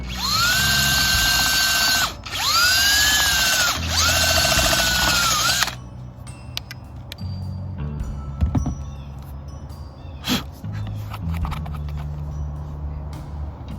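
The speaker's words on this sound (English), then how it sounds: "So let me go ahead and drill this hole." A loud, high-pitched power drill whines steadily for several seconds with brief pauses while drilling a hole in a camper van for an antenna install, then stops, leaving quieter handling clatter and a few knocks.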